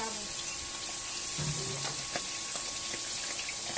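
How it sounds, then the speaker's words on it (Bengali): Fish frying in a pan of hot oil at a small eatery serving thalis, a continuous bubbling sizzle with scattered spattering pops throughout, busy kitchen noise around it. "বেশ টকবক করে ছিটকাচ্ছে মাছের তেলগুলো"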